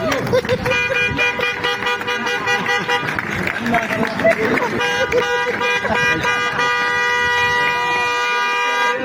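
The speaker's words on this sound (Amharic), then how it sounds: "ክላክስ" Car horn honks at a vehicle handover event, sustained tonal blasts over a noisy crowd with people talking throughout.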